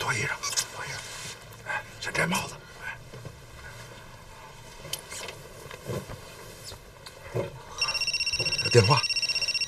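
A telephone starts ringing near the end in steady repeated electronic pulses, following quiet whispered talk and rustling in a bedroom at night.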